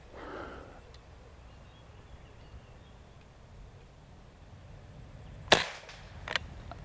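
A Benjamin Sheridan Blue Streak .20 caliber air rifle fires a single sharp crack in a quiet setting, followed a moment later by a fainter knock.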